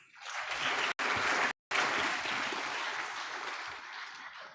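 An audience at a national science award ceremony in New Delhi breaks into sustained applause, dense and even, with two brief dropouts before the clapping carries on steadily.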